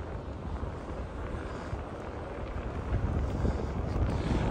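Strong cyclone wind at Balneário Camboriú beach roars and buffets the microphone in a continuous rumbling gust that grows louder in the second half.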